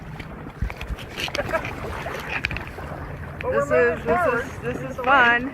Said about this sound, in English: So we're kayaking in gale force winds.